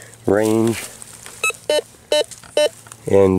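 Metal detector (Minelab Explore / Quest 4 style unit) at a new home site in California sounds a target tone: four short, evenly spaced electronic beeps ringing between stretches of speech by a man.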